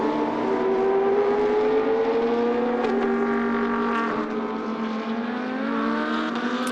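Lamborghini GT2 race cars lapping Paul Ricard during a GT2 European Series race, engines droning loud and steady with a rising and falling pitch as the pair run together, no voices over them.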